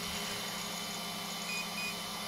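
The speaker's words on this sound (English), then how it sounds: "So that beeps twice now." A Hobbywing Max6 electronic speed controller gives two short, faint, high beeps close together during programming, over a steady background hum.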